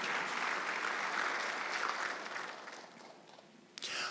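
A church congregation at a Sunday worship service claps together, a dense, even patter of many hands that fades gradually over a few seconds before a brief sound at the end.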